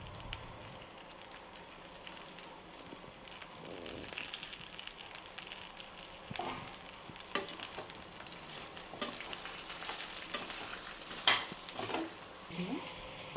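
Spices with salt, turmeric and chilli powder stirred into a pan of stuffed brinjal curry: soft continuous sizzle with irregular scraping stirs and occasional clinks of a spoon against the pan, close and fairly quiet.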